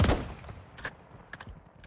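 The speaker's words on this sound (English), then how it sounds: "This one's the auto shotgun." An auto shotgun fires in the mobile shooter game Warzone Mobile: a heavy opening blast, then a few quick, sharp shots with metallic ringing tails. The shots are loud and come without any talk.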